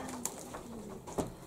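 Pigeons cooing inside a dovecote, soft low murmuring coos repeating close by with a couple of brief wing or movement sounds, no talk.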